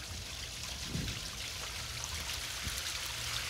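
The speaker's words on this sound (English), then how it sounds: "Can we like crank the water and pretend like it's pouring outside?" Water running down a rain chain on a television show patio set, a steady soft rushing trickle that continues evenly throughout, with no one talking.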